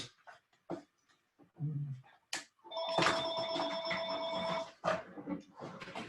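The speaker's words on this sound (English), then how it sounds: "I'm sorry about my phone." A mobile phone rings during a remote talk, a bright repeating electronic ringtone lasting a couple of seconds, with brief talk and rustling around it.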